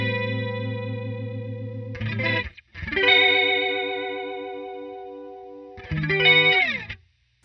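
Electric guitar played through a Walrus Audio Julia analog chorus pedal, sustained chords shimmering with a classic warbling chorus, struck in several strummed bursts with brief gaps, close and moderately loud with no talking.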